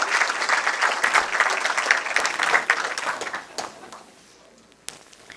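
An audience at a Brazilian forum event applauds in a burst of dense clapping that fades out over a few seconds, with a few scattered claps at the end.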